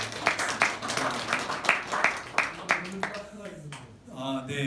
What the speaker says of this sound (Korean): 감사의 박수 한번